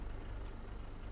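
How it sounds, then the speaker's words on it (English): Tractor engine in Farming Simulator 22, running as a steady low rumble with no clear start-up crank, alone and fairly quiet throughout, in a snowy grain-hauling session. "Let's start this tractor up here."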